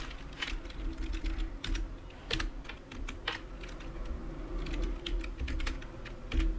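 Someone types on a laptop keyboard in quick, irregular bursts of sharp, close key clicks over a low background hum, with no talking.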